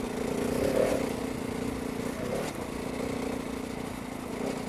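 A Husqvarna 701 motorcycle engine drones steadily on a test ride, a continuous mid-pitched hum with a slight swell near the start, heard up close amid wind noise.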